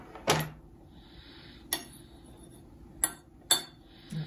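A utensil stirs chicken salad in a bowl, giving four sharp, isolated clinks against the bowl spread over a few seconds in an otherwise quiet room.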